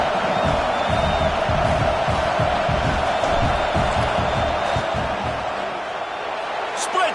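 Dense, loud crowd roar fills a college football stadium during a field goal attempt, a steady wall of voices and cheering with no break across the stretch.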